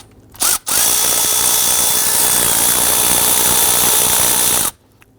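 Power tool driving a 10 mm socket on a short extension to loosen valve cover bolts on a Toyota Tundra, a brief spin followed by a loud, sustained high whir lasting about four seconds, close up and without speech.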